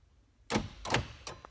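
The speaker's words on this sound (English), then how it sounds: "Probably heard the door locks there." Three quick mechanical clunks of the door locks cycling on a 1997 Chevrolet S-10, evenly spaced, close and fairly quiet, against near silence.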